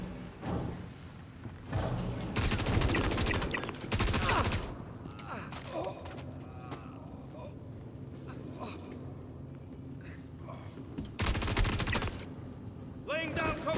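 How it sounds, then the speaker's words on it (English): Rapid bursts of automatic gunfire in the Star Citizen shooter game, loud and close, in several volleys separated by quieter stretches of game ambience. "Laying down covering fire!"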